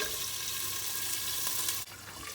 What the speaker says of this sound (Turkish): Biraz daha kavuracağız. Soğanlarımızı atalı 3 dakika oldu.